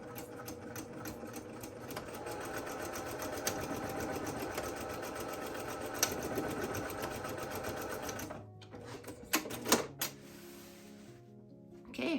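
Sewing machine running steadily as it zigzag-stitches along a fabric edge, a continuous close mechanical whir for about eight seconds, then it stops and a few short clicks and handling noises follow.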